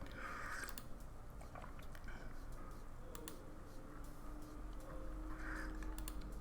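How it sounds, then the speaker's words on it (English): Computer keyboard typing clatters quietly and continuously in a home streaming setup, irregular soft key clicks layered over a steady background hum, with no one talking. "Apologies for the keyboard noises."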